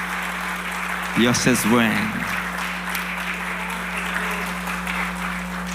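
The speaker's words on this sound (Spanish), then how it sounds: "Le brindamos alabanzas de aplausos a nuestro Dios, iglesia." A church congregation bursts into applause in praise during a service, the clapping swelling for about a second then fading into a steady background murmur, with someone speaking over the start of it.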